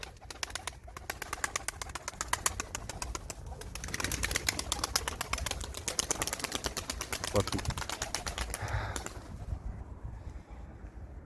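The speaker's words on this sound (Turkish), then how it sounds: "akşam olduğu için kuşlar yuvasına geri dönüyor" Tumbler performance pigeons at an Istanbul farm coo softly amid rapid fluttering as they return to roost in the evening, a voice briefly speaking nearby.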